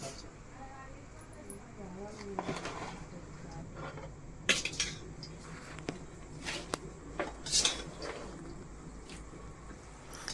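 Mango pickle being stirred with oil in a bowl, Telangana style: soft, irregular squelching and spoon clinks against the bowl, with a few sharper knocks, under a person talking almost throughout.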